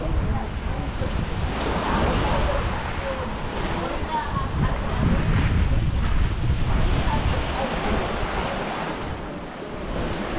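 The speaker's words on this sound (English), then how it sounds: "The sea is very nice." Sea waves washing onto a beach at a seaside resort in Boljoon, a steady broad surf roar with wind buffeting the microphone, continuous and fairly loud, with a voice talking over it.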